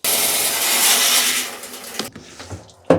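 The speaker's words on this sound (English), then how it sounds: "I'm trying to cut really through the volume of the piece and see what it looks like inside" A saw cuts through a piece of fossil agatized coral, giving a loud, close, continuous grinding rasp for about two seconds that then stops, followed by a few faint knocks and one sharp clunk.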